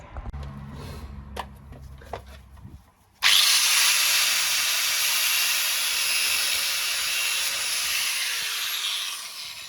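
Power tool cutting off a seized bolt on a toy track car, starting with some light clicks and taps, then a sudden loud, steady high-pitched grinding hiss that runs on continuously.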